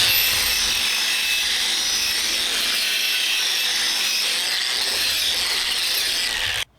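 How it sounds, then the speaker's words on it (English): Bench grinder fitted with a rubber wheel scrubbing rust off brake rotors, a steady, loud high-pitched whir and abrasive hiss running continuously, close up, with no talking. "Rubber wheel here on my grinder so I can clean up the rotors."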